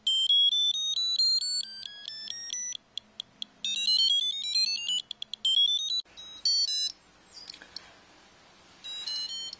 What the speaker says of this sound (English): that alarm that tells you that there's an earthquake and how powerful it is.